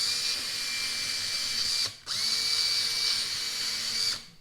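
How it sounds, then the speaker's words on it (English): A cordless drill with a dying battery whirs steadily at low speed, briefly stops, then spins up again and runs for a couple more seconds before winding down; close and alone. "My battery's dying on my drill, so that doesn't help."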